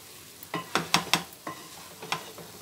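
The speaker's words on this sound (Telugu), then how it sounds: "ఇలా ఒక ఐదు ఆరు నిమిషాలు కలుపు కలుపుకుని సిమ్లోనే పెట్టుకున్నానండి" A spoon stirs a coconut and jaggery laddu mixture in a pan on low heat, producing a series of soft scraping strokes at an irregular pace, close with a faint background hiss.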